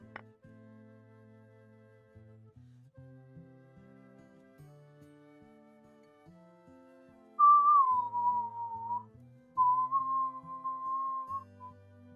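A person whistles two sustained, wavering tones over a steady background of musical notes, the whistle loud and close against the quieter accompaniment.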